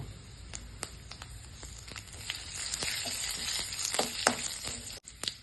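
Mustard seeds, curry leaves and cumin crackle and sizzle in hot oil for a spinach chutney tempering, a steady close frying hiss with scattered sharp pops that grow busier and louder toward the end.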